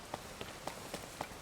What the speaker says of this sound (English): getting there is gonna be more annoying now because it is now raining